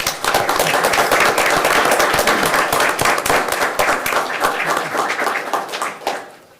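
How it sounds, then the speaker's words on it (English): Audience members at a school board of education meeting give a loud, sustained round of applause with sharp individual claps that tapers off at the end. "let's give them a round of applause as well, please"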